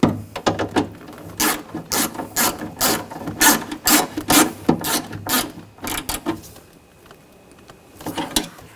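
Bolts on a 2000-2006 BMW X5 front window regulator are snugged down with a ratchet, giving bursts of rapid close clicking in several runs and then a brief pause before more clicks.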